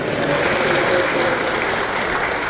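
Applause from an audience at a governor's speech in Wamena, Papua: continuous, moderately loud clapping with a crowd murmur throughout.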